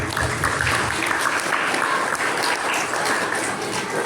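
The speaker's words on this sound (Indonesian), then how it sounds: "Berikan aplaus untuk semuanya" Crowd applause at a Maulid Nabi religious gathering at an elementary school, sustained loud clapping from many hands at a steady level with no pause.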